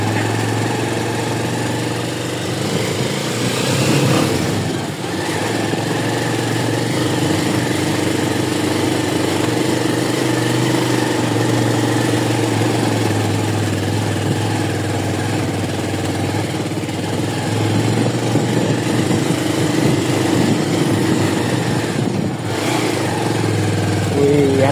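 A motorbike engine runs steadily on a slippery, muddy trail, a continuous mid-pitched drone with a few swells as the throttle shifts, heard close and loud throughout.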